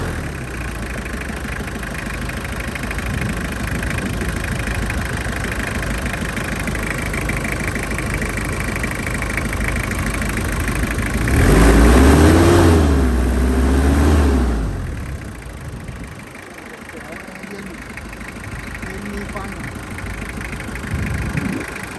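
A 1995 Toyota Mighty-X pickup engine idles steadily and close by, briefly revving louder in the middle before settling back to a low, even idle with no talking.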